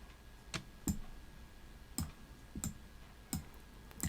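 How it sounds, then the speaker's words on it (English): A computer mouse clicks sharply about eight times, in irregular pairs and singles, close and clear against a quiet background. "I'm going to click on the Deerdorfs."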